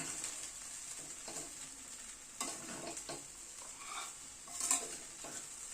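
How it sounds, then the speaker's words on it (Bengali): Rice frying in a pan as orange zest is stirred in, with soft scraping stir strokes and a faint steady sizzle, quiet and close, no talking. "কমলা লেবুর জেস্টটাকে এবার একটু মিশিয়ে দিচ্ছি।"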